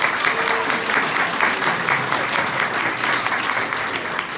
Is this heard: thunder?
no